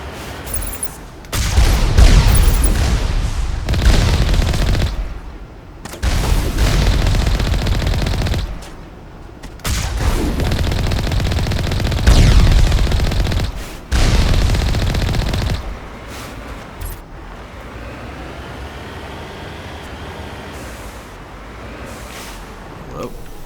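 Rockets explode in a battle in Mass Effect: Legendary Edition, with loud bursts of blasts and gunfire coming in repeated waves that are broken by short lulls before the action fades out.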